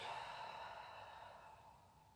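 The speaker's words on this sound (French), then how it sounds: "et on souffle" Someone breathes out slowly during a relaxation and stretching exercise, a soft, sustained airy rush that tapers off gently, heard close up with no talking.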